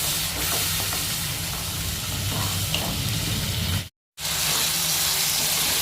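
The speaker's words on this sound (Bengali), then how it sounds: "ওই মশলার বাটি ধোয়া জলই মা একটু একটু করে দিয়ে কষাবে" Spice paste for a paneer curry frying and being stirred in a pan with a little water added, a loud continuous sizzle with scraping, briefly cut to silence before resuming.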